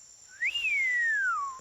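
A single whistle from the cartoon KikoRiki, clear and close, sliding up quickly, then falling slowly in one long note across most of the moment.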